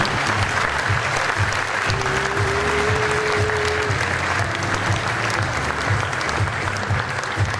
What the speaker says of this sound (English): Round of applause again for Dr. Seri, everybody.